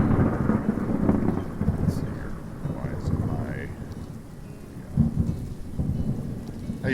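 Rain pours steadily with rumbling thunder throughout a Cities Skylines thunderstorm, swelling and fading in waves with occasional louder rolls.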